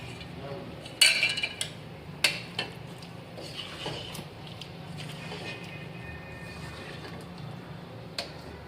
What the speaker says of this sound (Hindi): अब मैं डिश में निकाल रही हूँ।